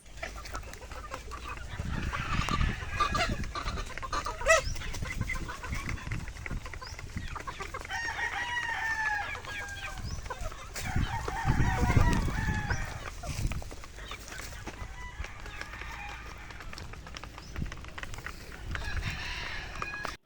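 Young free-range cockerels on a game farm crow repeatedly and cluck throughout, several birds at mid distance over a steady outdoor background.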